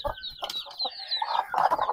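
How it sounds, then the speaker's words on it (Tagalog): A mother hen clucks close by in a backyard coop where chicks have just hatched, with a run of short, repeated clucks and cackling calls that grow louder toward the end. "Kunin ko muna ang inahin."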